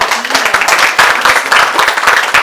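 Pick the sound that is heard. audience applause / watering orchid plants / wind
audience applause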